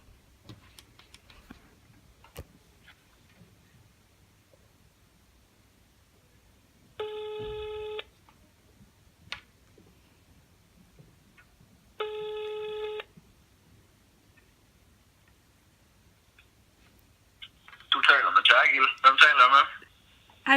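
Outgoing telephone ringback tone during a phone interview call: two steady, evenly spaced rings a few seconds apart over a quiet line, followed by a voice answering near the end.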